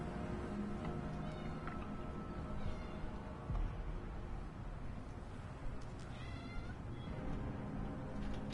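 A cat meows several times at a distance, faint thin cries rising over a steady low background hum with no talking.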